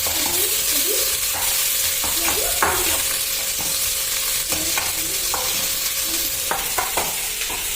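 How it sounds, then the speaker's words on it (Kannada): Tomato, ginger, garlic, cinnamon and cloves fry in a pan for an egg sambar, with a steady sizzle throughout and scattered scraping clinks as the mixture is stirred. "ಟೊಮೊಟೊ, ಶುಂಠಿ, ಬೆಳ್ಳುಳ್ಳಿ, ಚಕ್ಕೆ, ಲವಂಗ ಹಾಕಿದ್ದೀನಿ. ಫ್ರೈ ಆಗಿ ಸ್ವಲ್ಪ"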